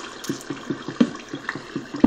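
Old video game water sound: a quiet, evenly spaced run of small bubbling drips and plops, repeating steadily for about two seconds with nothing else heard.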